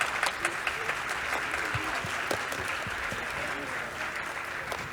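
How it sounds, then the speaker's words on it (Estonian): Hearty applause from a school crowd at a spring festival concert, honoring the media club students: sustained clapping from many people filling the hall, with some crowd murmur mixed in. "Aplaus neile!"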